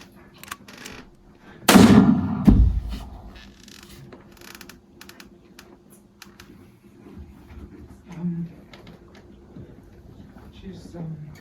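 A single sharp pistol shot cracks loudly once from offstage during a stage play, followed by quieter stage movement and people speaking.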